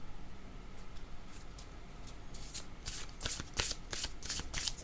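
Tarot cards shuffled by hand, starting as faint riffles and building into a quick series of loud, crisp ruffling bursts close to the listener, with no talking.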